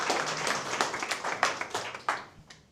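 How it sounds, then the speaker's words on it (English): Scattered applause from a small audience at a DevOps and AI tech meetup, individual claps clearly separated and near, thinning out toward the end. "big round of applause for Edgars"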